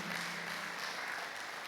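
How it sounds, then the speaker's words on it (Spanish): A church congregation applauds in praise at a worship service, a steady wash of clapping sustained at even loudness from start to finish, with a low hum beneath. "Dale un aplauso al Señor, aleluya."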